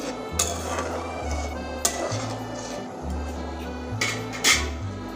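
Garam masala paste being stirred in a cooking pan for a fish roe kofta curry, with scattered metallic spoon clinks and scrapes against the pan over a low steady hum.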